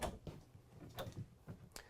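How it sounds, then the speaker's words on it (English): A kitchen drawer in a full-size Jayco Precept motorhome is slid open and shut several times in quick succession, soft muffled knocks and rolling clicks, close and quiet with no talking. "The drawers are just absolutely amazing in here."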